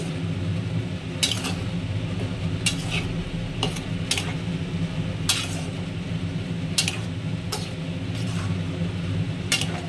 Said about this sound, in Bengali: এভাবে কিছুক্ষণ নাড়তে থাকবো যতক্ষণ না কষাটা কমপ্লিট হচ্ছে।